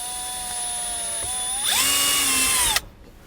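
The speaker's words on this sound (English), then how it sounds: "and then we're going to just drill right on through." A power drill whines steadily as it bores through a trim panel in a 2020 Cadillac Escalade to mount a Redarc brake controller switch. The pitch climbs as the bit loads up, then cuts off abruptly once it breaks through.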